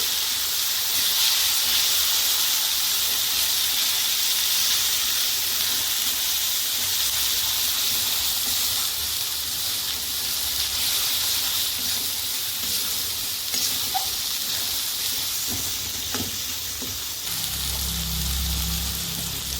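Spice paste with chili powder frying in a pan for a soybean curry, a steady, loud, continuous sizzle and hiss throughout, with a soft clunk near the end.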